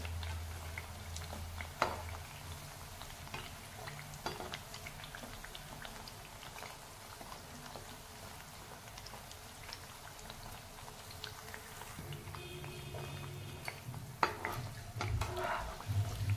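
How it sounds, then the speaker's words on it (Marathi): Wheat flour puris deep-frying in oil on a slow flame, a quiet continuous bubbling fizz with scattered light pops and faint ticks, steady and close. "या पुऱ्या मी स्लो फ्लेमवर तळून घेतल्या"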